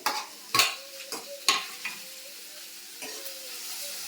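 Onions and tomatoes sauté in a pan, with a steady close sizzle broken by several sharp scrapes and clatters of stirring in the first two seconds, then a softer, even frying hiss.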